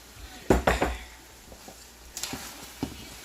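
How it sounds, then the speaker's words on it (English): Onions and mixed vegetables tumble into a pan for beef broccoli, giving a few loud clattering knocks of utensil against cookware, then a softer scatter of taps close by. "now I'm going to add my onions and my mixed vegetables up in there"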